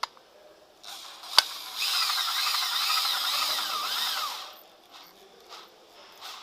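Electric pipe bender curving copper pipe runs as a steady motor whir of about three seconds, with a click before it starts and soft handling knocks around it.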